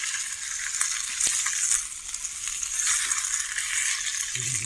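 Fresh tilapia caught from a dam fries in hot oil on a flat griddle, a continuous bright hiss of sizzling oil with faint crackles and a small clink near the middle.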